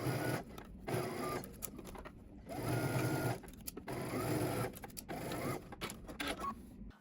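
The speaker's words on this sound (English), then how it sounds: "Then we're going to head to the sewing machine and we're going to stitch using 5/8 of an inch seam allowance." A sewing machine stitches a sleeve seam at a 5/8-inch seam allowance on a Simplicity S3167 garment, running in several bursts of steady whirring separated by short pauses, close and clear with no talk.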